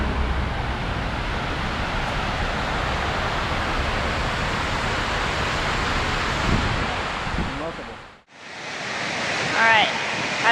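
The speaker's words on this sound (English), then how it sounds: "it's sort of loud in the water and wind and stuff" Loud, continuous rush of water and wind in the rain, buffeting the microphone, briefly cutting out before resuming with a faint voice.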